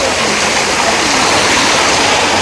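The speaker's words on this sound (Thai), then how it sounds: "ขุ่นแท้น้ำตกอ่ะ" Steady, loud broadband rush of a muddy, murky waterfall at a zoo, continuous water noise filling the whole stretch with no pauses.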